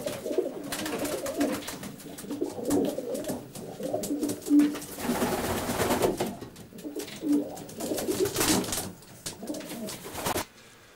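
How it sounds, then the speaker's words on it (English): Racing pigeons coo repeatedly in low, throaty murmurs, several birds overlapping close by with brief pauses between bursts. "These are a few of Ralston's stock birds, which he says he's very proud of."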